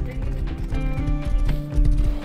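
Rapid horse hooves clop in a quick galloping rhythm in the video game Rust, loud and close, repeating steadily without any talking.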